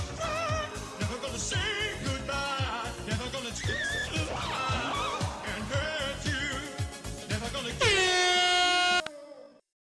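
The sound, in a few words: air horn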